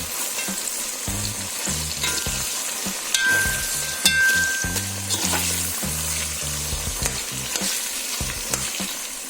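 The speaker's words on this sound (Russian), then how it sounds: "Также будем обжаривать вместе с мясом." Meat, onion and carrot sizzle and crackle in a hot pan, with a utensil stirring and scraping now and then and a brief faint tone partway through.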